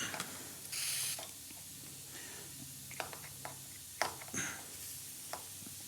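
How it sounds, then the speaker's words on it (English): A WD-40 spray can fires under a lifted handlebar grip on a Triumph T120 motorcycle, giving two short, close hissing bursts separated by quiet handling noises and light clicks. "if you've got a can of WD-40, ideally with a straw"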